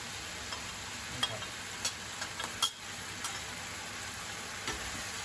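Brussels sprouts stir-fried with pork belly and black pepper in a pan: a steady soft sizzle with a few light clicks and scrapes of the spatula, faint and continuous.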